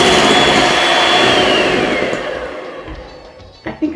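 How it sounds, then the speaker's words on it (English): An electric mixer whisking buttermilk into red velvet cupcake batter, a loud steady whir that winds down and fades over a few seconds, ending with a couple of knocks from the bowl. "then I'm going to add half of my buttermilk into the mixture as well, just half of it, and then whisk it all together"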